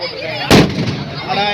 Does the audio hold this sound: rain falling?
no